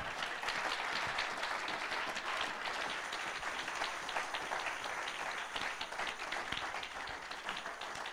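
A congregation at a Sunday church service breaks into sustained, dense applause and clapping, filling the room for several seconds with a faint voice underneath.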